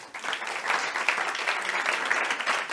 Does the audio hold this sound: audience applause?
yes